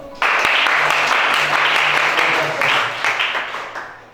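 Congregation at a French-language church service applauds, steady loud clapping throughout, close and dense, tapering slightly toward the end.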